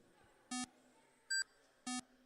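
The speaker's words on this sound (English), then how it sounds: "You hear there's two different sounds as the cars cross the line." Three short electronic lap-timing beeps as race cars cross the line at a club race, spaced unevenly; the middle one is higher-pitched than the other two, sounding clean and isolated against a quiet background.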